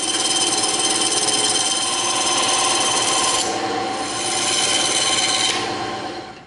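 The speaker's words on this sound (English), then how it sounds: "now we're gonna do the tapered cut on the top part." A blade cuts a tapered edge along EVA foam for a crossbow body, giving a loud, continuous rasping scrape that runs without pause and briefly changes tone midway before tailing off.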